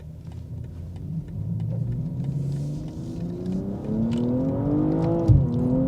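A 2022 BMW M240i xDrive pulls hard uphill in manual mode, its engine note climbing steadily in pitch through the revs, loud and close, with a brief dip and thump near the end as it shifts.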